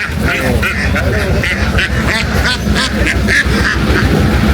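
Chinese ducks, neither local nor farm breed, quack in a dense, continuous chorus at a duck market, loud and steady throughout, with some background human voices mixed in.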